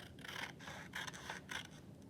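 Scissors snip through a magazine page at a classroom craft table, three or four crisp papery cuts in an even rhythm, close and fairly quiet with no talking.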